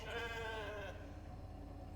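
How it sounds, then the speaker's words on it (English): A sheep bleats in The Alters video game, a loud wavering cry in the first second that trails off, backed by a steady low hum. "your first experience is Dolly the sheep"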